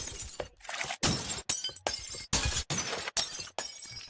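A rapid run of separate glass-breaking sound effects plays back to back, each a loud, bright shatter cut off abruptly before the next begins, about eight crashes in four seconds.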